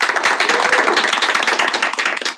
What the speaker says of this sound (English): we have had an election, so we can clap